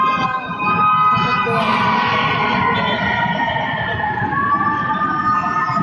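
A fire truck siren wails loudly and steadily at the scene of a fire, its rising and falling tones sustained throughout over rumbling street noise, with a voice briefly audible.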